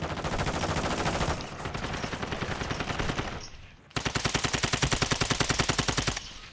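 Sustained automatic gunfire from Call of Duty: Modern Warfare II, dense rapid bursts that briefly drop out before a louder, sharply pulsed stream of shots resumes.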